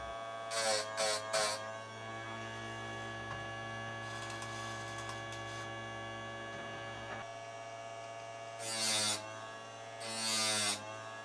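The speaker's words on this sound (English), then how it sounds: "slightly controlling the grinding by pushing it left or right" A Parkside 20V battery-powered chainsaw sharpener with a plastic frame runs with a steady electric motor hum, while a steel chain is ground in several short, louder bursts near the start and again toward the end.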